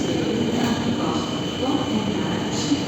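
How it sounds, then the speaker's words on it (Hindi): Inside a moving train in Cologne, Germany, a steady loud rumble of wheels and carriage noise runs throughout with no break. "यहाँ की ट्रेन अपने ट्रेन से थोड़ा डिफरेंट है।"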